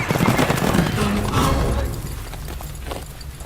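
Horses galloping hard in a rough buzkashi match, a dense, loud rumble of pounding hooves and commotion that fades noticeably after the first two seconds.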